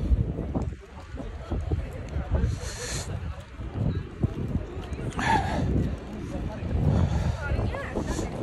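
Cold wind blowing outdoors at the University of Birmingham, a continuous low rumbling buffet of wind noise across the microphone, with a person talking over it.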